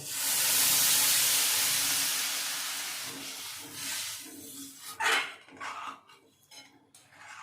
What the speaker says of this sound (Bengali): এবারে দিয়ে দিচ্ছি পরিমাণ মতো গরম জল